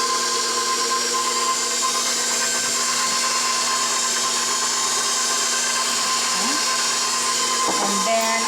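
Electric mixer creaming honey and butter for whole wheat banana carrot cupcakes, a steady loud whirring drone running throughout with no talk over it.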